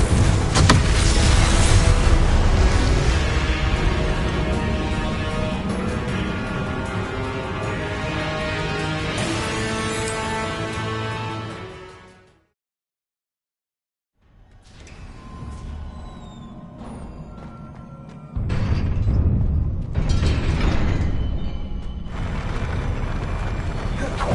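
A Confringo blasting spell explodes in the Hogwarts Legacy video game, with loud, dense booming and rumbling blasts under layered game music. A sudden silence of about two seconds follows, then more blasts and a heavy impact.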